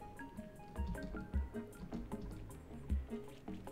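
Water drips and trickles as it fills a room in the video game Oxygen Not Included, with soft irregular plinks and splashes over a quiet liquid background, without any talk.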